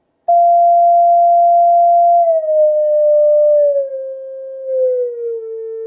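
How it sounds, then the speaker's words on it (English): A Vectronics Morse code practice oscillator, keyed with a straight key, gives one loud, pure, steady electronic tone held for several seconds, its pitch sliding slightly lower toward the end, with no talk. "Now let's see if I can send a little bit of Morse code using the straight key."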